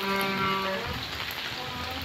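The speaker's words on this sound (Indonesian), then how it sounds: "angin kencang musim hujan" Heavy rain with strong wind during the rainy season, a steady broadband hiss of downpour and gusts at close range with no voices.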